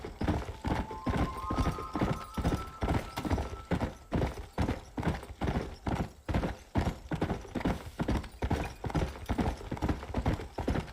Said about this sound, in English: This game was like specifically crafted with horse riding in mind.